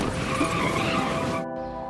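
A car skids out of control in a crash, a loud sustained broadband tire screech with engine roar that cuts off sharply near the end, leaving a fainter tonal hum.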